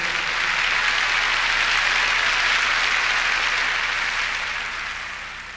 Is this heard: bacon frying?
no